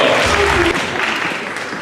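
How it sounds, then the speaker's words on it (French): Loud applause from a pageant audience at Miss Rouen 2019, a dense wash of clapping that fades slightly after the first moment while a low voice briefly sounds underneath. "on vous applaudit très fort quand même"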